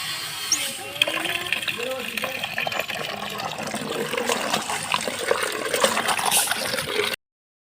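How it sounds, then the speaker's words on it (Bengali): Water runs from a roadside street tap, a steady, fairly loud outdoor flow that fills the clip alongside background street noise. "এই যে রাস্তার কলে আমি জল নিতে আসি"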